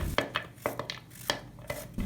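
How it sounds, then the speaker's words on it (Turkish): A knife chops zucchini repeatedly against a cutting board in quick irregular strokes, each cut a sharp tap, fairly quiet and close. "5 adet kabağı çok ince olmayacak şekilde doğrayalım."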